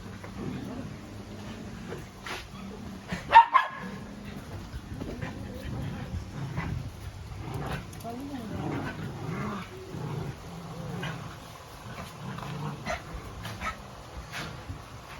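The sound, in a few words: stray dogs barking and whimpering in a kennel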